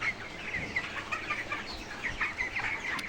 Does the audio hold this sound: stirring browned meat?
no